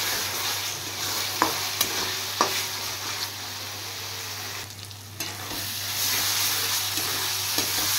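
Onion masala fries with coriander powder in a pan for a Bengali fish dish, making a continuous loud sizzle under repeated scraping and tapping of a spatula, and it dips briefly near the middle.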